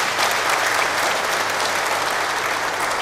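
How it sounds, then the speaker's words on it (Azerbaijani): Concert audience in Nakhchivan applauding loudly for a solo concert, a dense, sustained wash of many hands clapping that stays steady throughout, with no pause. "Mən istərdim, bir gürültülü alqışlar anaların şərəfinə."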